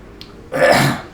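A single short, rough throat-clearing cough, close and loud, lasting about half a second.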